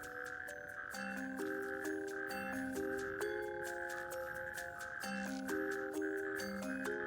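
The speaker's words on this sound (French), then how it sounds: "Leurs coassements polyphoniques s'entendent," Male frogs croak together in a dense, continuous chorus, their overlapping tonal calls stepping between pitches in a steady, pulsing rhythm with no talk.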